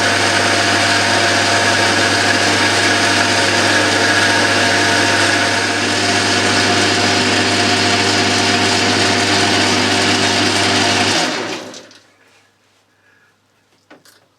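A lathe runs steadily with a continuous motor hum and cutting noise as it skims the face of a die holder, then spins down and falls nearly silent near the end.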